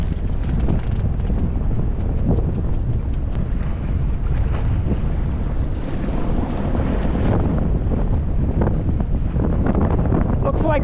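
Strong 18 to 20 mph wind buffets a Catalina 22 sailboat sailing close-hauled under a reefed main with no headsail, a loud steady roar with gusting microphone rumble and water noise, with no pause from start to finish.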